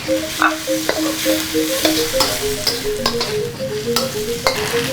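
Chilies sizzle and crackle in a hot pan for Balinese vegetarian urab, with steady frying hiss and repeated scraping stirs of a utensil against the pan, close and continuous throughout.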